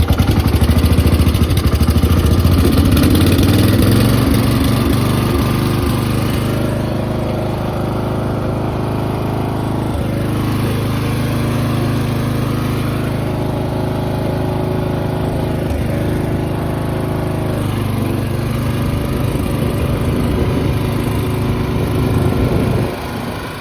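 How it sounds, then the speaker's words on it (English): Lawn mower engine being built into a racing mower, running steadily for the whole stretch, loud and close with a rough continuous drone that eases slightly in pitch after the first few seconds, no talk. "now it's running. So finally running, we can start it up"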